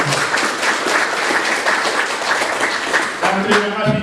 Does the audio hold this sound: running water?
no